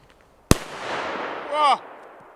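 A New Year's Eve firework flares up like a torch, opening with a sharp crack and then a loud, rushing hiss of burning that swells briefly with a whistling squeal before fading away.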